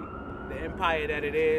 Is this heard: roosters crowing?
no